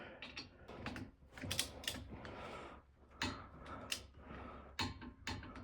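A torque wrench tightens a brake caliper bolt on a 1998-2002 Toyota Corolla, giving quiet, close ratcheting clicks in irregular bursts with short pauses between them.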